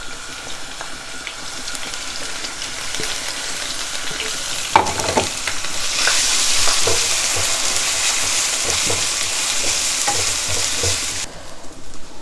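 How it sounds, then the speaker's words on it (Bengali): Onions go into a pan after garlic has browned, and a close, crackling sizzle rises sharply. Clanks and scrapes from stirring run through it, and the frying grows louder and more hissing toward the end. "রসুনটা একটু হালকা ব্রাউন হইলে আমি পেঁয়াজ দিলাম।"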